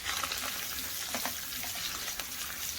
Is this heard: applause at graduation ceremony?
no